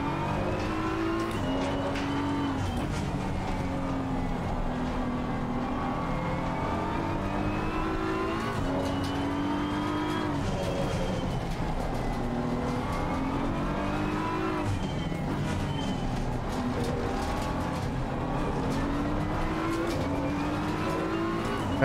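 Race cars roar at night in the video game Assetto Corsa Competizione. Engines rev loud and constant, with rising and falling pitch through gear changes and brief tire squeal, and no voices over them.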